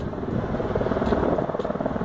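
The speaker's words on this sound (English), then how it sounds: "there is one over there, hovering over far away" A distant helicopter hovers far away, giving a steady, rumbling rotor drone with a faint pulsing beat that stays constant throughout.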